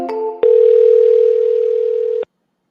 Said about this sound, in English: We're going to hit this call button.